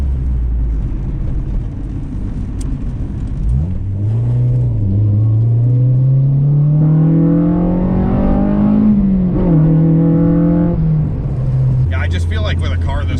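A JDM Honda Civic EK GSR hatchback with a B-series engine revs up through the gears while cruising around town, its engine note climbing steadily and dropping back, loud and close inside the cabin.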